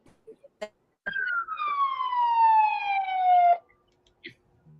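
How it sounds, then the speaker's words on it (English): A single siren wail that starts high and slides steadily downward for a few seconds, fairly close and clear, with brief faint knocks before and after. "there was a siren."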